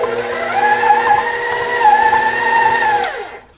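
Steady motor whir of a stand mixer on medium speed kneading focaccia Pugliese potato dough, a loud close hum with a wavering pitch that drops away as it is switched off near the end.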